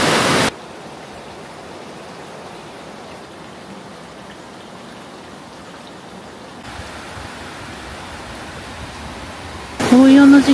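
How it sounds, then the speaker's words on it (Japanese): A steady rushing roar of a fast-flowing river beside a hot spring inn in Kirishima, Kagoshima, fills the scene, constant and dense, with a brief voice at the very end. "川が流れてる。"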